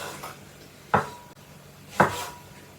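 A kitchen knife chops tomatoes into pieces on a cutting board, with two distinct sharp chops about a second apart against a quiet kitchen.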